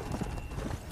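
Horse hooves clip-clop in the Red Dead Redemption Undead Nightmare game, a short run of soft, fairly close steps ending in a brighter sharp knock.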